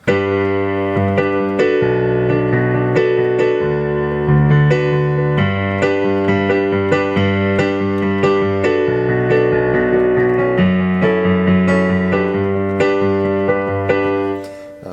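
A piano plays the chorus of a song, a steady chordal passage with sustained bass notes and a repeating right-hand pattern, continuous and fairly loud, no voices.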